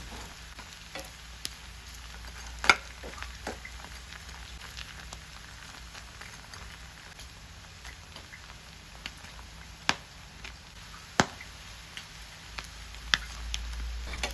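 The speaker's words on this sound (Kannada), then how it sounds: "ಹಾಗಾಗಿ ಸ್ವಲ್ಪ ಗೋಲ್ಡನ್ ಬ್ರೌನ್ ಬರೋ ತನಕ ಫ್ರೈ ಮಾಡಿಕೊಳ್ಳಿ." Pork pieces frying in hot oil until golden brown for pork Manchurian, giving a steady close sizzle with scattered sharp pops and crackles throughout, no voices.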